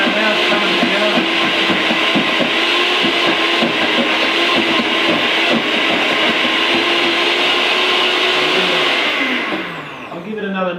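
An electric mixer whips butter into a protein snack mixture with a steady, loud whirring drone, broken by rhythmic thumps and scrapes. It runs throughout and eases off near the end.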